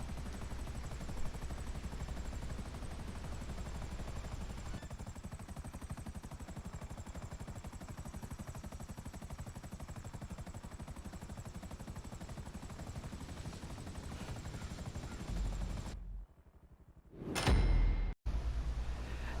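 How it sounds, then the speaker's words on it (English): A helicopter in the GTA V Online video game flies and sets down at a rendezvous point, its rotor throbbing steadily for most of the time before a brief dropout and a sharp whoosh near the end. "You just have to bring in the helicopter here and land it at the rendezvous point."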